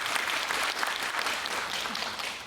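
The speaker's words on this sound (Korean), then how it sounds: "다시 한번 뜨거운 박수" A crowd applauds warmly after a humanities lecture, dense steady clapping filling the whole stretch without pause.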